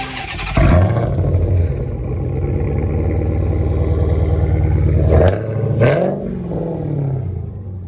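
A Dodge Hellcat Redeye fitted with a new 3-inch catback exhaust roars loudly up close, holding a sustained rev before two sharp throttle blips rise and drop away into a deep burble.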